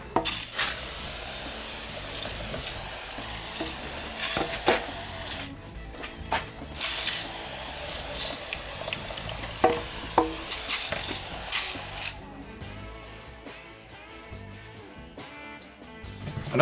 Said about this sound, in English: I'm going to pour that into my pump sprayer